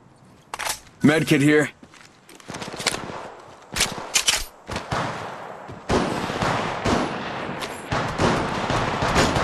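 Gunfire in Apex Legends Mobile: sharp bursts of rapid shots and single cracks, loud and close, broken by short gaps, with a character voice calling out over the shooting.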